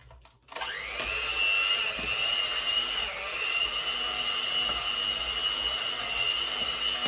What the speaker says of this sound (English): Then we're going to mix this until it's all mixed nicely together. So I'll start on a low speed